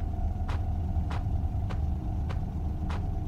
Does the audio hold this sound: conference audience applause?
no